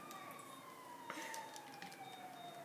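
An ambulance siren in Grand Theft Auto V sounds a faint, continuous tone that glides slowly downward, with scattered clicks and game effects over a steady background hum.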